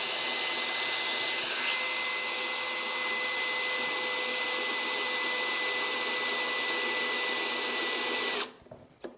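A power drill bores a hole in glass with a steady, loud, high whine that holds for about eight seconds, then cuts off abruptly into near silence with a faint knock.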